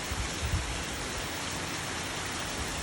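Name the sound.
heavy rain falling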